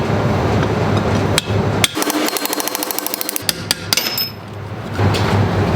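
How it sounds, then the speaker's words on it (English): A rapid run of hammer taps on Honda Goldwing brake caliper parts, close and loud, with a few heavier strikes before and after the fast rhythmic tapping. "tap it back through with the hammer"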